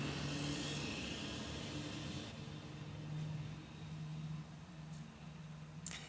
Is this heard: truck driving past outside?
yes